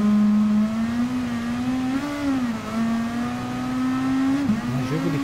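Racing car engine in the video game Gran Turismo Sport, a steady droning whine that climbs and dips with shifts, a rainy race setting, moderately loud and alone with no talk.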